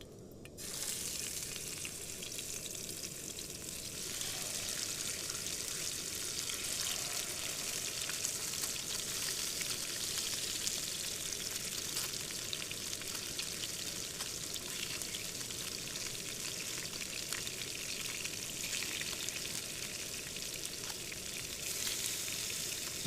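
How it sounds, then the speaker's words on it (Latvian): Fish fries in a pan at a riverside outdoor cooking spot, a dense, steady sizzle and crackle of hot oil that runs on continuously without pause, loud and close with no talking. "Var čurkstināt."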